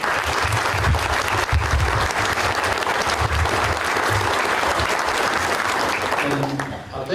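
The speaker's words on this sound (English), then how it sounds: "let's give them a big round of applause" Audience at a bridge dedication ceremony applauding in a dense, sustained burst of clapping that tapers off near the end.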